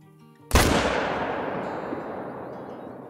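A single sharp rifle shot fired at a Cape Buffalo in the hunting game Call of the Wild cracks out loudly after a quiet moment, then rolls away in a long fading echo.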